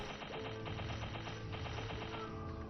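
Meso Explosion skill firing in the MapleStory video game, a dense rapid-fire rattle of repeated crackling hits over steady game music, loud and continuous throughout.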